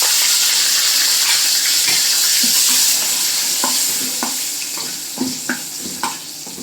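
Red chilli, turmeric and curry leaves hiss in hot oil for a Marathi tempering in a pan with the gas switched off, a loud bright sizzle that gradually fades, with scattered stirring clicks and taps near the end.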